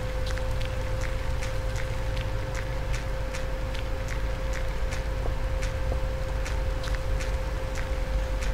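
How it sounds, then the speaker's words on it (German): Rain in the Minecraft clone MineClone2, a steady loud hiss of falling water with regular soft pattering ticks and a faint constant hum underneath, with no talk. "Und es regnet."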